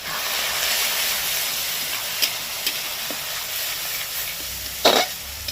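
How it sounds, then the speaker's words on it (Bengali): Spices and chili sauté in hot oil for a fish curry with taro, giving a steady, close sizzle with occasional stirring scrapes and a short cough near the end. "এবার এটাকে দিয়ে কষিয়ে দেবেন ভালো মতন করে কষাতে হবে"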